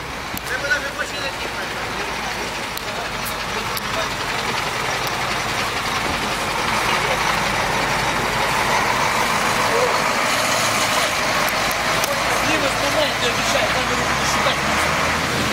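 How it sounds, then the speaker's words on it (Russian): A car engine runs steadily and rumbles nearby as the car turns around and drives out on a day off, with voices in the background. "Вот, выходной день выезжает машина. Она заехала, развернулась и выезжает."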